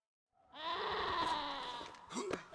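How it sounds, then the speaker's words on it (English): A mountain goat in the Red Dead Redemption game lets out a long, wavering bleat that sounds almost like mocking laughter, up close and loud. It runs for about two seconds and then breaks into a few short, choppy sounds. "I feel like the mountain goat is mocking me."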